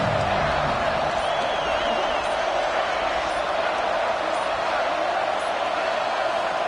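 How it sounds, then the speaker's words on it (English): A football stadium crowd at a college game, Temple against Ohio State, roars in a steady, dense wash of cheering that fills the whole stretch, with a voice faintly audible under it. "And the crowd coming to life here, trying to help this defense down in the red zone."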